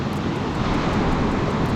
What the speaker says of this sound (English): Super stormy, super windy.